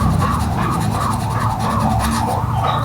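Sandpaper rubbed against a worn clutch lining during a clutch replacement. The rasping is close and continuous, with quick back-and-forth strokes in a steady rhythm and no voices.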